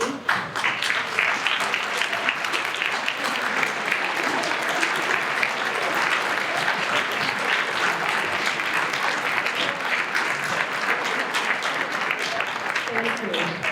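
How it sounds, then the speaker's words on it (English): Sustained audience applause fills a school senior awards night as graduates stand to thank generous donors, a steady dense clapping crowd that holds at full strength throughout with no pause. "please give a round of applause for all your generous donors behind me"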